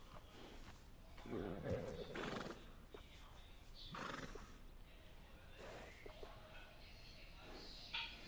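A horse in Red Dead Redemption 2 whinnies in a few short bursts, quiet and somewhat distant, with faint hoof sounds between the calls.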